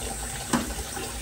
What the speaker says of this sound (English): run a little bit of hot water